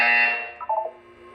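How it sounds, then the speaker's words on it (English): A buzzer sounding in the video game Portal 2: a loud, sustained electronic tone that fades, followed by a short burst of brief beeping pulses, with no talking. "You will hear a buzzer."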